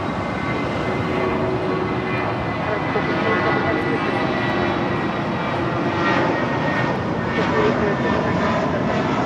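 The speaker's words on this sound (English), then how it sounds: "British Airways flight 281 coming in from London Heathrow on the 777-300ER" A British Airways Boeing 777-300ER arriving at LAX gives a loud, continuous jet engine roar, with a voice faintly heard under the noise.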